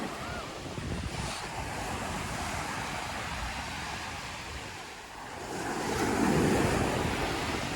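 Wind gusts and surf roll steadily along Lamai Beach on Koh Samui, the waves washing continuously with microphone buffeting, swelling louder near the end.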